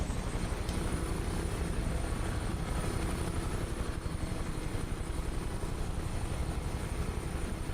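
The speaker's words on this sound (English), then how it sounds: "I'm not going to close the engine down because we need some sounds" Engine and rotor noise of a UH-1H Huey helicopter idling on the ground in Microsoft Flight Simulator, a constant loud turbine whine with steady low rotor thump and a thin high tone, unbroken and without speech.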